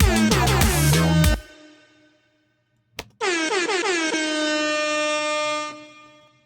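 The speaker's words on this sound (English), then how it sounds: "All I did with the DJ horn is this is just a" A DJ air horn sample drenched in heavy reverb, first a rapid stuttering burst of loud blasts, then after a short pause and a sharp hit, one long sustained metallic horn blare that rings out and fades.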